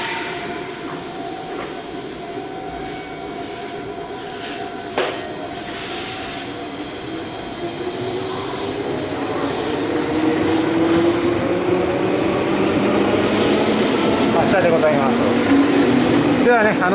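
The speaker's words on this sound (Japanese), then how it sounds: "6番線から電車が発車します。" A train rumbles and gradually grows louder as it pulls away from platform 6 at a Japanese railway station, with wheel squeal and rising mechanical whine building over the steady station hum.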